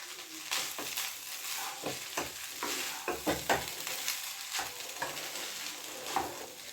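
Street-style fried rice is tossed and stirred with a ladle in a pan, giving repeated scraping clacks of metal on metal over a steady background sizzle, fairly close and moderately loud, with no talking.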